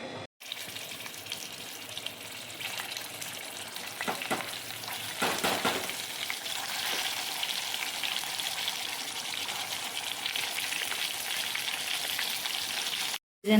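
Masala-stuffed capsicum fries in a pan, a steady close sizzle and crackle with occasional stirring scrapes, continuing evenly for over ten seconds without any talking.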